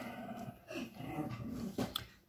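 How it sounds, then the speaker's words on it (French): Dogs at play indoors let out low, rumbling growls with small yips, faint and close, continuing for a couple of seconds with no talking. "Les chiens ont décidé de jouer."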